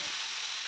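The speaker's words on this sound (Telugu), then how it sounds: "ఆ పులుసులోని ఈ పోపును అనేది వేసుకోవాలండి." A tempering of spices drops into hot oil over a tamarind stew and sizzles with a steady, loud, bright frying hiss, close by.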